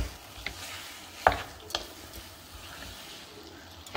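Mashed potato is stirred into a drumstick cutlet mixture in a pan, giving a faint low sizzle with a few soft spoon scrapes and taps, close and quiet.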